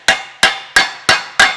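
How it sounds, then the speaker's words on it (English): Five crisp, evenly spaced hammer strikes ring out on metal tubing resting on a bench, each loud, close and bright with a short decaying ring, in otherwise quiet surroundings. "what you can do with a hammer on a bench"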